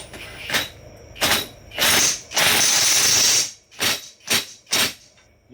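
An air impact gun turned down low works on a nut at an Eagle two-post lift cylinder, rattling out about seven separate bursts, some brief, one held for over a second, close and loud.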